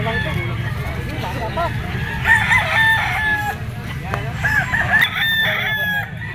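Gamefowl roosters crow at a busy Sunday pet market, the Grotto pet tiangge, with two clear crows rising over a steady crowd murmur and voices.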